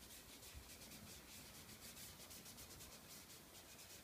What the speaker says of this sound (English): Rub those in.